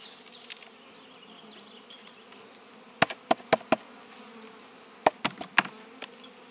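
Honeybees from a wintered hive buzz in a steady low drone while a new nucleus colony is installed, with several sharp clicks and knocks from hive equipment breaking through in quick bursts.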